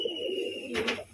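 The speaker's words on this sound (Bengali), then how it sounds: "একটা বিস্কুট মাদি আপনার সব করাচ্ছি, বিস্কুট মাদি পায়রা।" Biscuit-coloured female pigeon gives a short, soft coo close by, with a brief flutter of movement near the end in a quiet setting.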